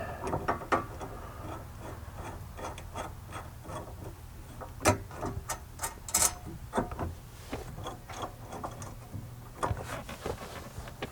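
Ratchet clicks and metal hardware rattling while 1/4-inch bolts are fitted to a MOLLE panel behind the rear window of a third-generation Toyota Tacoma, irregular close clicking and clinking with small knocks throughout.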